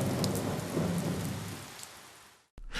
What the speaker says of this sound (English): That night, freezing rain blankets the tower in ice.